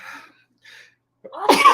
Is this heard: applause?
no